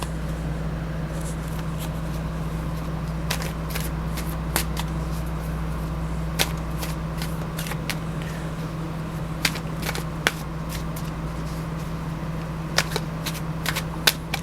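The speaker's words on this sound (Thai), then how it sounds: "เราจะสับไพ่ ไปพร้อมๆ กันนะครับ" Tarot cards shuffled by hand, riffling and flicking in irregular crisp bursts over a steady low hum, close and clear with no speech.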